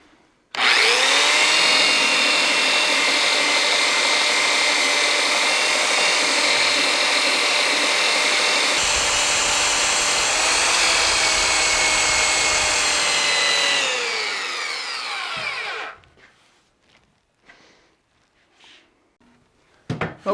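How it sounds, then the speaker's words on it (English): A handheld belt sander works wood down to a marked line for an upper kitchen cabinet, a loud continuous whining roar held steadily for about fifteen seconds before winding down, followed by light shop handling sounds. "I'm going to sand down to the line now. And I'm just using a handheld belt sander."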